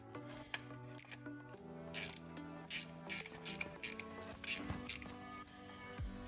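A ratchet wrench cranks a bolt during a rear brake job on a 2001 Audi allroad, making several bursts of rapid, close clicking in an irregular rhythm, with quiet shop background between strokes.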